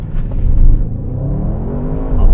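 Audi RS 7 (2020), 600 hp, launching hard under launch control with the stability control off: a loud, deep engine roar that builds and rises steadily in pitch over about two seconds, close to the car, with no talking.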